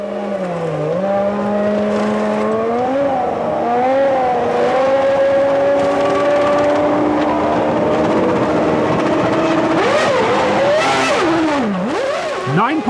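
Formula 1 race cars from the 1996 season scream past with high, shifting engine whines that rise and fall in pitch, loud and continuous, with a commentator talking over them.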